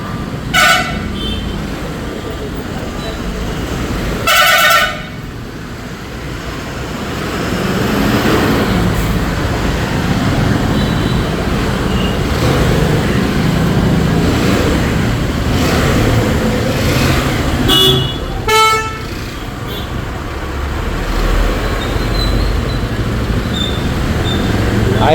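Busy town road traffic rumbles steadily while car horns toot in short separate bursts near the start and again later, some close and loud, with faint voices in the background.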